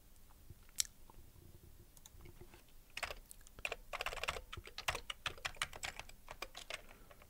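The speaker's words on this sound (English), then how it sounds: "Typing too fast for it." Fingers type on a computer keyboard while writing Amiga hardware code: a few isolated clicks at first, then a quiet, fast, steady run of keystrokes close by.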